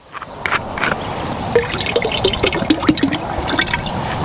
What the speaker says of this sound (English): Next, get your liquid crab oil in there.